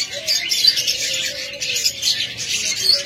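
Pet budgerigars in a bird shop give off dense, continuous high chirping and twittering. A faint lower whistle drifts through the chatter, with no speech.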